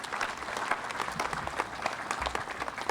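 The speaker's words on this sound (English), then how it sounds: "So a round of applause for Larry Norton," Audience applause at a Vietnam Veterans Day gathering, a steady dense wash of many hands clapping throughout, moderately close and even in level.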